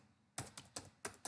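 A computer keyboard being typed on, four crisp keystrokes in quick succession after a near-silent moment, close and clear with no talking.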